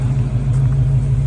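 Steady low rumble of a 1970 Dodge Challenger's engine idling close by, even and unbroken, no voices.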